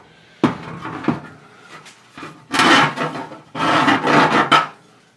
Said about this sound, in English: I've got my little half-round file. Deburr these holes.